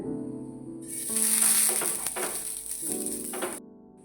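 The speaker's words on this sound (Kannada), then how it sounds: "ಇವಾಗ ನೋಡಿ ಎಣ್ಣೆ ಹಾಕ್ತಾ ಇದ್ದೀನಿ" Oil hissing and sizzling on a hot dosa pan, a bright crackling sizzle that rises steadily and holds close and loud for a few seconds before cutting off quickly, with a soft steady hum running underneath.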